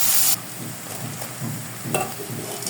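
Carrots hitting hot oil in a pan of softened onions, a loud sizzling burst up front that settles into a steady low frying crackle with occasional stirring.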